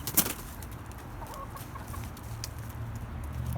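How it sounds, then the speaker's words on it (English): Backyard chickens in an urban permaculture orchard cluck softly and steadily in the background, fairly faint and distant, with one brief louder sound near the start. "Okay, chickens."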